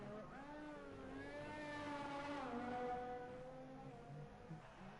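A Formula 1 car in an F1 video game on the Singapore street circuit passing under a bridge in the final sector, a faint high engine whine rising and falling through gear changes, heard alone.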